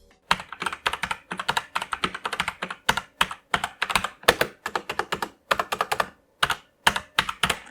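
Fairly loud mechanical keyboard with plastic keycaps typed on in quick bursts, dense clacking keystrokes with brief pauses, close and alone.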